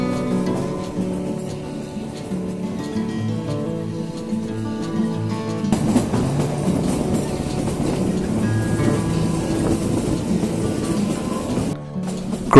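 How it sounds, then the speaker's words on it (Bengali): The Kalka-Shimla toy train climbs uphill through the hills, heard from inside as a continuous low rumble and rattle that grows louder and rougher midway, then briefly drops out near the end. "ক্রমেই ওপরে উঠছে ট্রেন"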